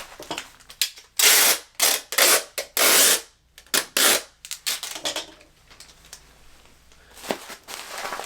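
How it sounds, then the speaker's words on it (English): Packing tape pulled off the roll and wrapped around the perimeter of a box of dishes, loud ripping screeches in several quick bursts, then quieter rubbing and pressing sounds. "I'm going to take the tape and go all the way around the perimeter of this"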